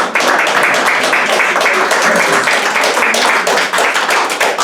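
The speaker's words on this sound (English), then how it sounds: "then a round of applause for Jenny for all the time." Brief applause from a library audience during a talk on the history of Lanier Library, close and loud, a dense patter of clapping hands lasting under five seconds without any talk.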